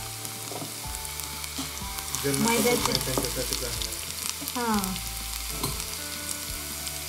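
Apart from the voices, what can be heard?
ginger and ajwain sizzling in hot oil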